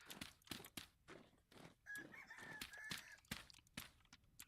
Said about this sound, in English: Oh wait, it is a chicken.